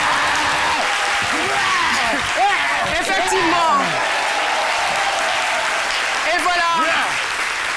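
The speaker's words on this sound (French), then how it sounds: "que je vous demande d'applaudir très fort" A studio audience on a television talk show applauds steadily, while a voice speaks over the clapping in the middle and again near the end.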